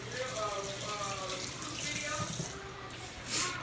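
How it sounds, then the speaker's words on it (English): Hands are washed under a running kitchen tap while cooking, a steady close rush of water with splashing that shifts as the hands move, and a person talking over it. "let's wash our hands"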